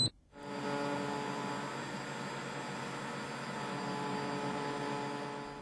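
A laser key cutting machine cuts the second side of a high-security car key, giving a steady, even mechanical hum and whine that starts abruptly and holds at constant loudness, with no voices.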